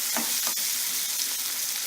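Tomato cooking for sambar in a hot pan: bright, crackling sizzle with a few stirring scrapes, steady and close.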